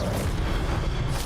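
An Incendio fire spell blast in Hogwarts Legacy, a loud, dense roaring burst of fiery noise with no break.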